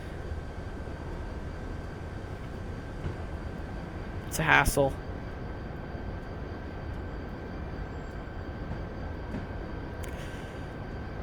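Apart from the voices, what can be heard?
train running, from Train Simulator 2016 video game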